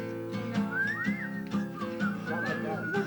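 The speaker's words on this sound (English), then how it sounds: "Can you whistle?" A person whistles a wavering, sliding melody in short phrases over a steady background of music with a low repeating beat, fairly close and clear throughout.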